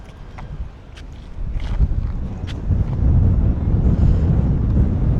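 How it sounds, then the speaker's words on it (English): Gusty wind buffets a drone's microphone over Harrow & Wealdstone, London, with a low, rumbling roar that swells and grows stronger, punctuated by a few faint clicks. "it's quite windy today, isn't it?"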